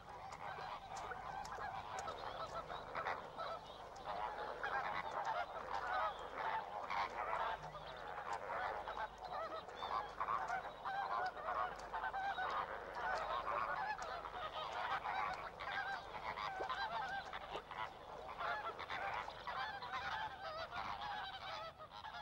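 A dense flock of greater flamingos honking and calling together, a continuous goose-like clamor that carries on without pause.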